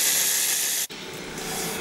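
A metal ball tumbles and polishes inside a tightly closed homemade tumbler, making a continuous dense hissing rush with a brief dropout before it resumes steadily.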